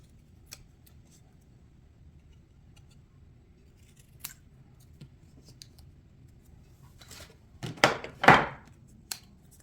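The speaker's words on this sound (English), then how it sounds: "we're gonna go with the scissors because they're right here" Faint scattered snips, then a few louder, crisp cuts of scissors through paper near the end, close by in a quiet room.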